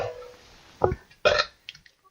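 A person burps after swallowing air, producing a couple of short, close belching bursts followed by a smaller gulp, over faint background noise.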